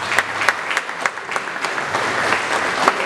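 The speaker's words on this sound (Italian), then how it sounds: "Un bel applauso per Roberto Isgrone" Applause from an audience at a political programme and candidate-list presentation in Barcellona, welcoming a speaker: dense, steady clapping from a moderate crowd, fairly near, with a few sharper individual claps standing out and no speech.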